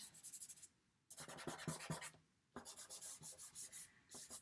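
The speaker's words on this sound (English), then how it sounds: "I'm just getting my one finger and I'm just smudging now" A fingertip smudges pencil shading on paper in soft, close, rhythmic rubbing strokes that come in two bursts with a short pause between them. The sound is faint and quiet, with no talking.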